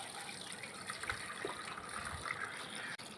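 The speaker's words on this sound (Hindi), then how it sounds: "अब बाकी जो हमारा पानी है उसको हम इसमें छान लेते हैं छाननी के अंदर।" Meat stock for yakhni pulao poured through a kitchen strainer, a steady soft gushing and splashing of liquid that runs continuously and fairly quietly throughout.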